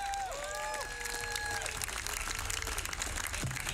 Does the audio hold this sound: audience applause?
yes